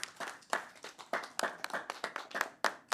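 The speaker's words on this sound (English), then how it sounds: "A round of applause for Professor Olukoshi." A small audience claps for a panel speaker at a discussion event, the hand claps separate and fairly sparse and coming in uneven bursts, not a dense roar.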